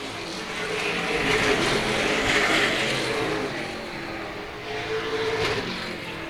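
Race cars roar around a speedway oval during a feature race at Star Speedway. Engines drone at a distance and swell and fade as the pack passes, a continuous blended roar with no voices.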